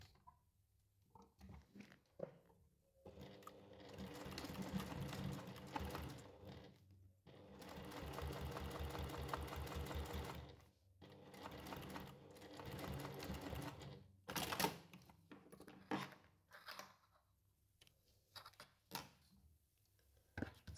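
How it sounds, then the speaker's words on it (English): Sewing machine top stitching with red thread at a long stitch length of 4, running in several steady whirring bursts separated by short pauses and fabric handling, close and clear with no talk. "I've changed my top thread to red for top stitching, and I have my stitch length at 4"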